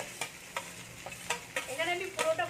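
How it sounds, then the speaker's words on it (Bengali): Leftover rice coated in egg yolk stir-fried on a high flame, with a series of sharp scraping stirs against the pan over a soft crackling sizzle, close and fairly quiet. "এখানে আমি পুরোটা ভালো করে ঢেলে দেবো, দিয়ে এটাকে আমি কিন্তু হাই ফ্লেমে নাড়তে থাকবো।"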